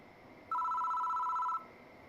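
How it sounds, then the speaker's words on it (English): A telephone rings in the horror adventure game Death Mark, one sustained electronic ring burst of about a second, clear and moderately loud over a quiet background. "The phone rings."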